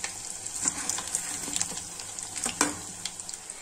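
Potato pieces for crispy honey chilli potatoes fry in hot oil, a close, steady sizzle broken by bursts of crackle and the scrape of stirring, with no talking.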